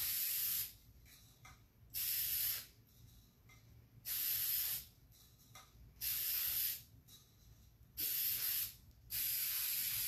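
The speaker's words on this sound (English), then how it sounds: "So I'm going to spray the bottom, all of this silver." Repeated bursts of silver spray paint hissing from an aerosol can onto a tumbler, each lasting about a second, with short quiet pauses between sprays.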